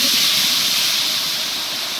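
Tomatoes hit hot oil where asafoetida has just fried for Tamil tomato thokku, giving a loud, continuous sizzling hiss that fades slightly as it goes on, with no talking.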